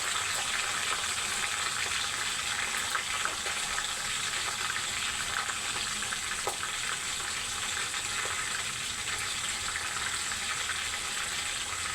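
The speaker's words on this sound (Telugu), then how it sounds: "ఆయిల్ వేడెక్కిపోయింది కదా, ఇప్పుడు కొద్దిగా ఆవాలు వేస్తున్నాను." Mustard seeds sputtering in hot oil, making a steady, fairly quiet hiss of sizzling dotted with small crackles and pops throughout, with no voices.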